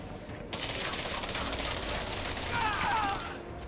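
Gunfire in the space combat game Elite Dangerous comes as a sustained, rapid fusillade of weapon fire. It is dense and continuous, with a brief gap at the start and a whining tone near the end.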